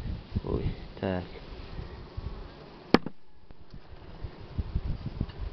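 Honey bees buzz in a steady, close drone inside a hive with five-day-old wax foundation, with a voice talking over them and a sharp knock partway through.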